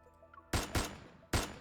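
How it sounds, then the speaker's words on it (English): Three sharp, loud gunshots ring out in an empty reception hall in the Love and Deepspace video game, two close together and a third after a short pause, each with a brief reverberant tail. "A gunshot explodes in the empty reception hall."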